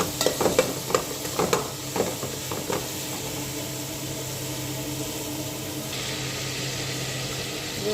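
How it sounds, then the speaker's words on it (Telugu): Onion and tomato frying in a pan with turmeric and pepper, a few sharp stirring scrapes at first, then a steady soft sizzle continuing alone. "ఇవన్నీ ఇలా శుభ్రంగా వేపేసుకోవాలి"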